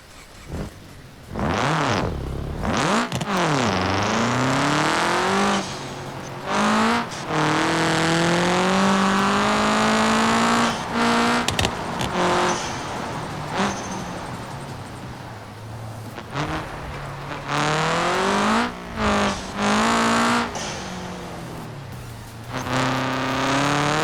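A rally car in the BeamNG game revs hard and climbs through gears, cutting off abruptly at shifts and bursting back loud again in repeated surges, with no talk.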